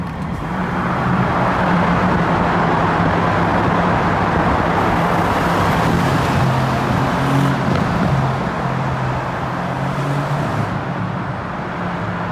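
A Mercedes-AMG C63S cruises on a road trip, giving a steady, loud engine drone and road rumble from inside the car that holds constant with no talking.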